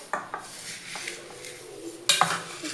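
A spoon stirs food in a pot, with scattered metallic scrapes and clinks against the sides, a louder clatter near the end, and faint sizzling underneath.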